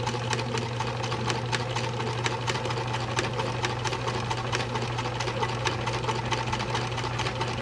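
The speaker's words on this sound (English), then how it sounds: "as I get to the end, I'm gonna just reverse stitch to knot it off." A sewing machine runs steadily and slowly past a snap on a small fabric project, a continuous close motor hum under a fast, even ticking of the needle.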